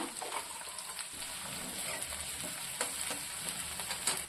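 Chopped onion sautés steadily in hot oil for an aubergine tamarind curry, a continuous close sizzle with occasional stirring scrapes and pops, no talking.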